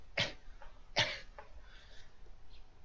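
Two short, hoarse coughs come about a second apart, quiet and somewhat distant, followed by faint low background noise during a horror video game playthrough.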